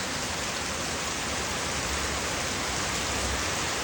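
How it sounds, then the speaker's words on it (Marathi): Heavy rain driven by wind during flooding, with water risen through a lane up to a parked bicycle; a dense, steady roar of rainfall fills the whole clip with no voices. "पण आज वारा पाऊस जास्त आहे. दाखवतो आहे तुम्हाला पाऊस."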